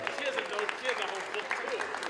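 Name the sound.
wedding guests applauding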